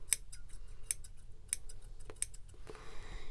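Scissors snip at a yarn pom-pom, four or five sharp, quiet clicks spaced about half a second apart over a soft background.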